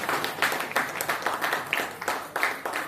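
Audience applause at a state-level painting competition event, a steady broadband wash of many hands clapping with irregular surges, moderately loud and continuous throughout.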